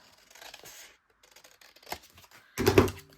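Scissors snipping a piece of craft paper or fabric for a handmade mini notebook, a few soft cuts followed by one louder, close crunching snip at the end.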